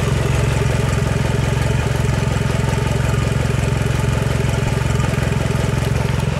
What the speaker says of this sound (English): Sounds way more mean at idle, and when you rev it up, I kind of love it.